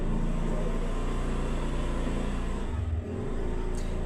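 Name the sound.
motor vehicle engine noise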